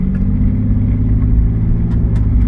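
A 2009 Dodge Nitro pulling away on a road test, its engine a loud, close, steady low rumble from inside the cabin as it accelerates, with no talk over it.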